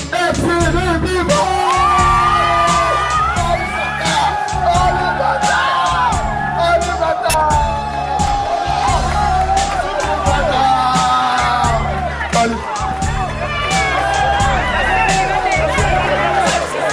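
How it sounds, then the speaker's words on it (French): Large crowd cheering, whooping and applauding loudly for the winning team of a football tournament, continuous and dense for the whole stretch, with someone talking over the noise. "applaudissez l'équipe au complet de FCD Viva!"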